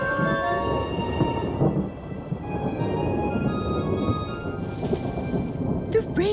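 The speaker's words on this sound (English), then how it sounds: "The rainy season has arrived." Steady rain with low rumbling thunder rolling throughout, and a few sharper crackles near the end, in a cartoon; a voice speaks faintly in the background.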